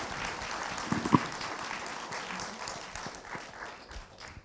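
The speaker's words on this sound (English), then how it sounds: "a round of applause is in order for our wonderful contributors" A round of applause from an audience at an artists' talk on arts of global Africa and the diaspora, moderate and fairly distant, a steady patter of clapping with a couple of sharper claps near the start.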